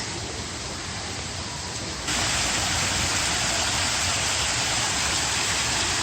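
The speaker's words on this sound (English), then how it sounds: "There's something so soothing about the sound of a waterfall." Steady broadband rush of a waterfall at a resort beside a lazy river in Puerto Vallarta, constant and fairly loud, swelling brighter and fuller partway through with no voices over it.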